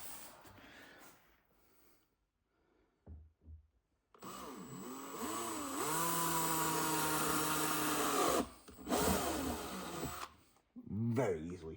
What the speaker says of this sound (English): what I have now is a 6mm drill bit loaded